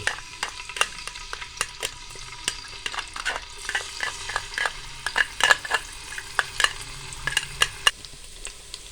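Continuous sizzling of garlic-ginger paste frying in hot oil, punctuated by sharp clicks and scrapes of a spoon stirring the pan, with no talking.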